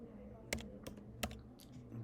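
A computer keyboard typing in a password, with a few sharp, separate key clicks close by over a faint hum and no talk.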